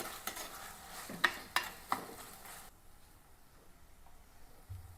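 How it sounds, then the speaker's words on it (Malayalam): Green chillies, ginger and garlic sautéed in a pan, with a few sharp stirring scrapes and a soft sizzle in the first half, then a quieter low hiss of frying. "നമ്മുടെ പച്ചമുളകും ഇഞ്ചിയും വെളുത്തുള്ളിയും ഒക്കെ ഒന്ന് നന്നായിട്ടൊന്ന് തന്നെ വാടിയിട്ടുണ്ട്"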